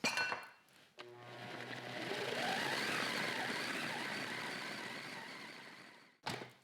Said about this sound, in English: I'll blend this up real quick.